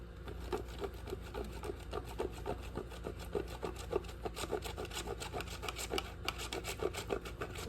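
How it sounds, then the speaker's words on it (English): Cold butter for three-ingredient buttermilk biscuits scraped over a box grater in quick, steady strokes, a close, rhythmic raspy rubbing that repeats throughout without any talking. "So back to grating this butter."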